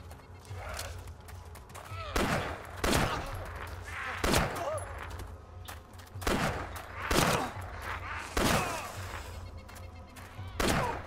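Bursts of gunfire in the survival game DayZ, sharp repeated volleys roughly every second or two, loud and close, with a voice talking in between.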